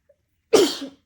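A single sharp sneeze from a person bothered by pollen, close and fairly loud, bursting out after near silence and tailing off quickly.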